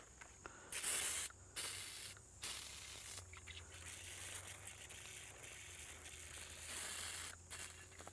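Repeated hissing bursts of liquid from a garden sprayer onto plants, each lasting a second or so with short pauses between, close to the microphone over a faint low hum.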